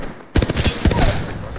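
Sudden rapid automatic gunfire erupts in the Apex Legends video game after a moment of quiet, a loud close burst of tightly spaced shots continuing without pause.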